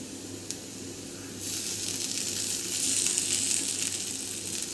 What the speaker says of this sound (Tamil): இப்போ இந்த உருளைக்கிழங்கு கொஞ்சம் வேகட்டும், ஒரு நிமிஷம் சாட்டே பண்ணிக்கலாம்